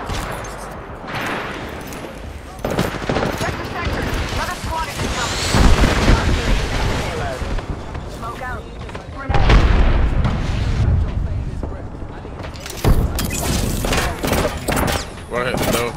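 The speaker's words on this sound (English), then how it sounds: "You see him shooting at me?" Gunfire and explosive bursts crackle through a first-person shooter match, with repeated volleys and heavy booms rising and falling over about sixteen seconds while a player talks over the action.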